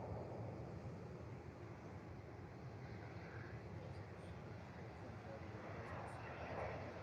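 A Ryanair jet airliner taxies at Liverpool airport, a steady, faint engine rumble heard from a distance beneath wind noise, with a person talking over it.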